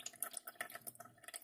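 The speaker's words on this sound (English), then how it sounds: "look at that, it's a really slow drip there." Slow, faint dripping of water draining from wet broccoli seeds, with small irregular drops ticking quietly and close by, no voices.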